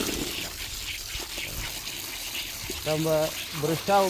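Water gushes and splashes steadily for a few seconds as it is poured over an elephant being washed, then voices speak briefly close by.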